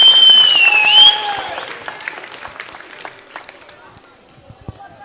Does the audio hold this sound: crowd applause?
yes